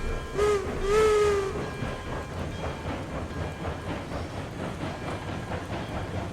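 A locomotive in the RailRoads Online railway game starts moving through a yard, its steady rumble and clickety-clack running throughout, with a short whistle-like tone near the start and no voices.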